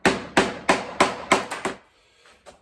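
A hammer strikes 18 gauge sheet metal to shrink it along sharp curves of an FJ-40 Land Cruiser cowl vent door, six sharp ringing blows in quick, fairly even rhythm, then a pause and one lighter tap.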